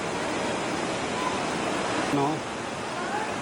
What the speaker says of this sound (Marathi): ही नदी प्रवाह पाण्याचा त्या डोंगराच्या खालून येत आहे